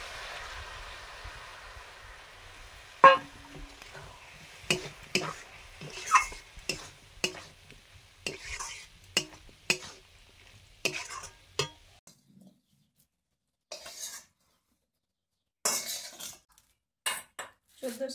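A spoon knocks and scrapes around a pan as mustard greens are stirred with mustard paste, giving sharp irregular clinks with pauses over a faint sizzle that drops away partway through.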